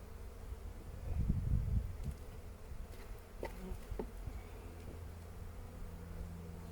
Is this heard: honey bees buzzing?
yes